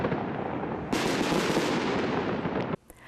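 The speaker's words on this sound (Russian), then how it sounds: "В небе загорелись огни, возле домов засверкали салюты." New Year fireworks bursting in the sky near houses, a dense crackling and popping barrage that starts abruptly, runs loud for about two seconds, then cuts off into a few sparse distant cracks.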